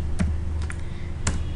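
A few sparse keystrokes tap on a computer keyboard while a date is entered into an Excel spreadsheet, three or four soft, distinct clicks over a low steady room hum.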